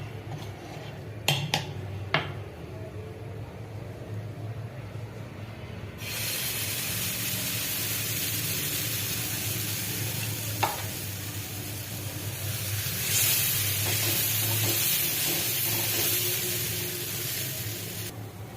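A fenugreek paratha laid on an oiled tava, preceded by a few sharp clinks, then a sudden rise into a broad steady hiss of frying that swells and continues to the end.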